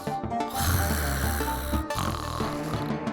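Cartoon old woman snoring loudly in her sleep, a couple of long, rumbling, nasal snores close up with a brief gap between them.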